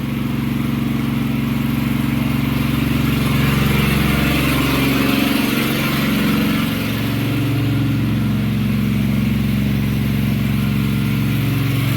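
A generator engine runs steadily and loudly at a mango orchard, giving a constant low mechanical drone with no pauses.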